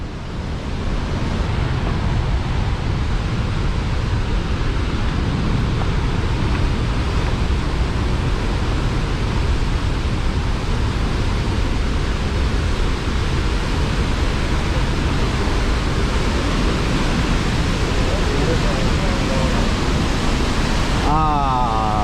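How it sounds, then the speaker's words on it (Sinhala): The Rhine Falls in Switzerland roar loudly and continuously from close range, a dense, unbroken rush of heavy falling water that drowns out everything else. "ඒ දියැලේ සද්ද නිසා."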